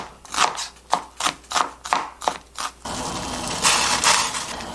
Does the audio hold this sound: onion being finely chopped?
yes